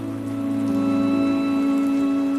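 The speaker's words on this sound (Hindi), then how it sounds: "अरे मीनू चिड़िया, तुम इतनी बारिश में बच्चों के साथ कहाँ निकली फिर रही हो?" Steady rain falls continuously, a dense even hiss of drops on surfaces with a constant background hum, no voices.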